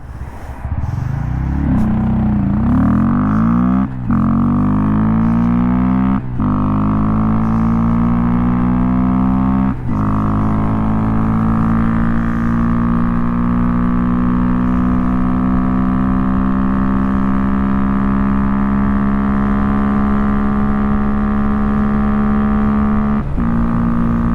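A Honda motorcycle accelerating hard from a standstill toward 60 mph, the engine rising in pitch through several gears with brief dips at each shift, then holding a steady loud drone at speed, close and continuous.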